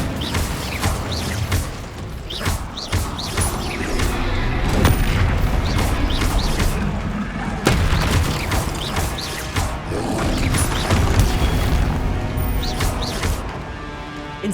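Fire spells cast in combat in Hogwarts Legacy, a Harry Potter open-world adventure game on PS5, with repeated booming blasts and crackling bursts over a dense, loud battle din, with no talk.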